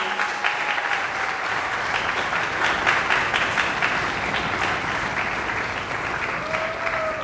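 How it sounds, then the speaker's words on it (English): Sustained audience applause fills a school spring concert for a junior high in Davis, California, steady and dense throughout, with a faint voice or tone briefly audible beneath the clapping. "So a round of applause for our parents and family."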